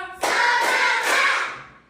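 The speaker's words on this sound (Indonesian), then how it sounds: "Tepuk 1. Tepuk 2. Tepuk 3." Class of pupils clapping together in a classroom, a short burst of bright overlapping hand claps that rises sharply, holds for about a second and then fades out.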